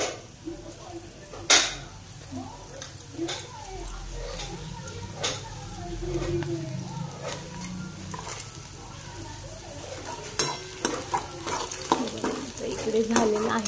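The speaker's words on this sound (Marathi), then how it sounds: "तर बघा असा मस्त कांदा असं थोडासा लाल लाल करून घ्यायचा" Chopped onion fries in a pan until reddish, a low sizzle beneath frequent scraping and stirring clatter from a spoon against the pan, with a person talking intermittently over it.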